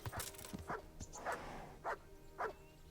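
A dog in the video game Kingdom Come: Deliverance barks several times in short, spaced bursts, fairly close and clear, with faint background noise between barks.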